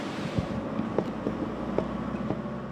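Strong, steady wind roars across a storm-hit town in Aurora province, a continuous broadband rush with faint gusty knocks and buffeting against the microphone, with no voices.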